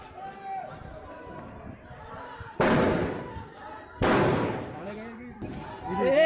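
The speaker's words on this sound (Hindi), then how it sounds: "firing firing firing" Gunfire breaks out during an election clash in Kairana over fake voting: two loud, sharp bangs a second and a half apart cut through the nearby shouting and chatter of a crowd.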